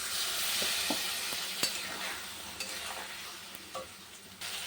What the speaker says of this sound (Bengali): মশলাটা কষানো হয়ে গেছে তেল বেরিয়ে গেছে